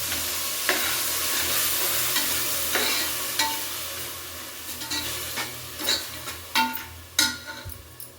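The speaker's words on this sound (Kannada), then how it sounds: "ನಾನು ಸ್ವಲ್ಪ ಜೀರಿಗೆ ಹಾಕಿ ಒಗ್ಗರಣೆನ ಮಾಡಿದ್ದೀನಿ." Cumin and asafoetida being tempered in hot oil for a mint coconut chutney, a steady close sizzle with repeated spoon stirs and scrapes against the pan growing sharper toward the end.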